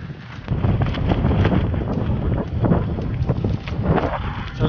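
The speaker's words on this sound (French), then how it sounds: "il y a du vent" Gusty, cool, humid wind on a rainy hike rushes and buffets the microphone in uneven surges, a rough continuous roar close by with no speech.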